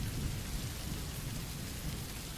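Steady rain pours down in a thunderstorm, with low rolling thunder rumbling underneath throughout; a dense, continuous wash of sound with no voices.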